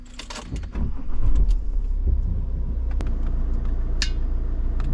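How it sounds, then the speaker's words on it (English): A car engine starts and settles into a steady low idle rumble, with a few small clicks and a brief jingle of keys over it. "And then switch on the engine."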